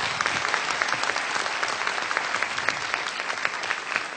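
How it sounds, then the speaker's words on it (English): Audience at a university lecture by a Nobel laureate applauding steadily, a dense, even clatter of many hands clapping throughout with no talk over it. "please give a big round of applause for Professor Maskins"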